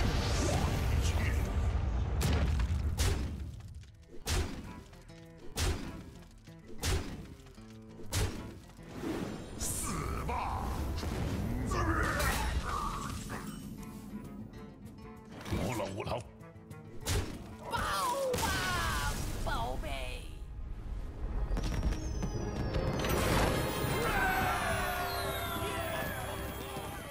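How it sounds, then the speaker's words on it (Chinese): Hearthstone game effects in heroic mode of the Dalaran heist: a series of heavy thuds, crashes and whooshes of falling and explosions, spaced irregularly and mixed with game music and voices. "坠落还有爆炸了"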